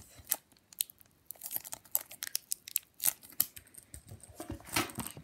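Crinkly plastic wrapper of a Pokémon Ultra Prism card pack being torn and crumpled up close in short, uneven bursts, with no talking.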